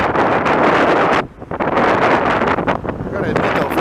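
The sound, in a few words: wind blowing on a windy afternoon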